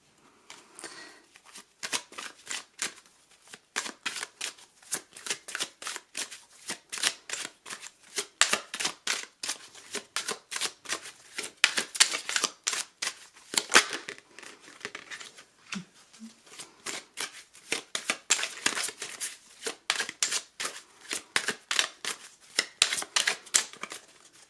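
Oracle cards are shuffled by hand in rapid riffling bursts, each a crisp flurry of papery flicks separated by short pauses, repeating steadily and close up.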